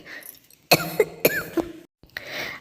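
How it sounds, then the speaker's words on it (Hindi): A woman in an animated Hindi story cartoon coughing, a few sharp, close coughs in quick succession followed by a short pause and a breathy exhale. "खांसना शुरू कर देती है।"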